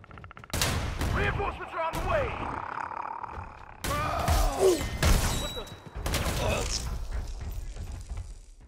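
Gunfire in Predator Hunting Grounds comes in three loud bursts of heavy shots and roaring impacts, separated by short gaps, with voices shouting over the action.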